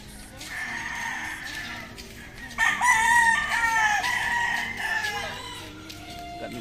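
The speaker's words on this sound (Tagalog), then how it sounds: "Ganda ng manok" A rooster crows loudly and close on a farm among other chickens, the long call rising midway and trailing off, with faint clucking and background voices around it.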